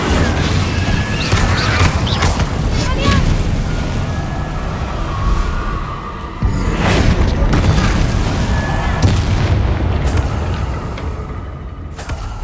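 Deep booming blasts from the Bombarda spell in Hogwarts Legacy roll out over a dense clamor of combat and magic effects, loud and continuous with a few sharper crashes rising out of the mix.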